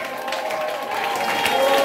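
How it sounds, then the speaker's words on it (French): A church congregation applauds with cheering, a dense burst of clapping mixed with raised voices and tonal shouts, building slightly louder over a short span. "donne-lui le point d'acclamation avec des cris de joie."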